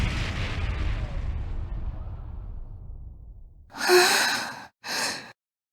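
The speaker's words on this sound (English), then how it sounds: "Sounds like screaming. And cannon fire." A deep rumbling cannon boom in the video game Ys X: Nordics fades slowly over several seconds, then two short breathy gasps or sighs follow close up.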